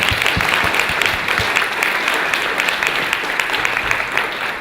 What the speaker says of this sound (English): have a big round of applause for all of us